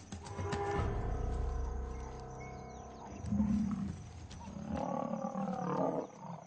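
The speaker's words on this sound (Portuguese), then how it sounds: "7 leões contra um búfalo." Seven lions attacking a buffalo in the African wild, with deep roars and growls rising and falling in several loud bursts, mixed with bellowing and scuffling from the struggle.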